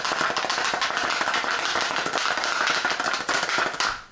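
A bullet rattles in a lidded container with powder coat, a rapid, steady, close clatter of hard knocks that keeps going for about four seconds and then stops abruptly.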